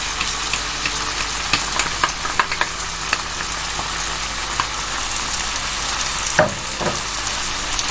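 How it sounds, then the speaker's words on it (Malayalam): Chilli chicken with tomato ketchup sautés in a pan: a constant loud sizzle and crackle, broken by scattered scraping stirs and a sharper clatter near the end, with no talk. "നമുക്ക് നല്ലോണം സോട്ട് ചെയ്ത് കൊടുക്കണം."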